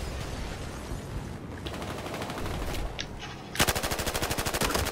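Automatic gunfire in the video game Battlefield Hardline, scattered shots followed by a loud, rapid, evenly paced burst near the end.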